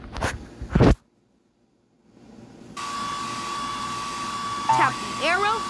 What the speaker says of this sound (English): The hair dryer to blow dry the pup's hair.